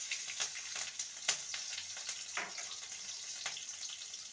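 Mustard seeds, cumin and chopped green chilies frying in hot oil give a steady bright sizzle with scattered pops and crackles throughout, close and moderately quiet.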